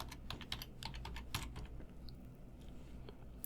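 Computer keyboard typing, a quick close run of clicking keystrokes in the first half that thins to a few sparse taps, over a low background hum.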